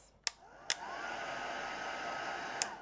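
Handheld hair dryer blowing steadily on modeling paste in a mixed media paper bag journal, a constant close airy whoosh broken by a few sharp clicks.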